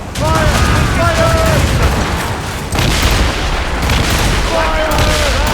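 Ship cannon fire in a naval battle in the video game Assassin's Creed Rogue, loud repeated booming volleys layered over battle din, with shouting crew voices in between.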